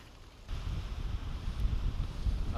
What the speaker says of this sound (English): I'm also fighting the wind